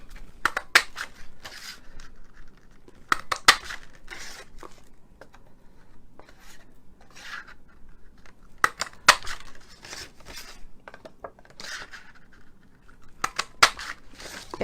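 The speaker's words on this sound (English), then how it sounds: "So we're going to cut out 5, punch out." Scissors snip through paper while five magnolia flower petals are cut out, sharp crisp cuts arriving in short clustered bursts with quiet pauses between, close and alone without talking.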